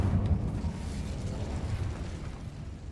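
An Incendio fire spell cast in Hogwarts Legacy gives a low, rumbling burst that rolls on steadily for a few seconds, loud and close, with no voices.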